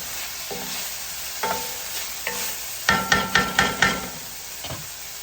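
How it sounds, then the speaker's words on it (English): Onions fry and release liquid in a pan for soul food oxtails, a steady sizzle broken by a few soft scrapes, then a quick run of five sharp knocks as a spoon stirs and taps against the pan. "as the onions are cooking, it'll start releasing liquid, and it will help you get all of them good bits off the bottom of the pan"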